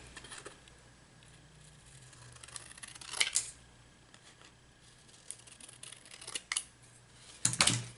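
A few crisp scissor snips cut through a cardboard tea box tag during a papercraft project, with quiet pauses between the cuts and a louder final snip near the end.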